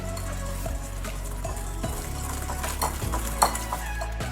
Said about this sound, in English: Now you just want to whisk this together.